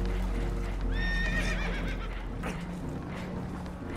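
Horses neigh and whinny in Red Dead Redemption 2, a few clear rising-and-falling calls near the middle, with hoof clatter on a boat under a constant low rumble of water and wind.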